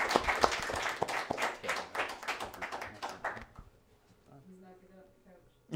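A small audience at a casual living-room concert gives Anthony a round of applause, loose and uneven clapping for about three seconds that quickly fades into quiet room noise.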